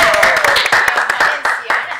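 Applause for a beauty pageant winner at a televised event, a short burst of dense clapping close by with voices mixed in.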